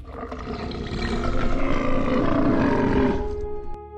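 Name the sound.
deafening low dinosaur roar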